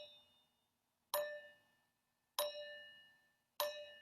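A bell casting struck three times with a loosely held mallet allowed to bounce off, each hit a clear bright ring that decays quietly before the next, evenly spaced and alone.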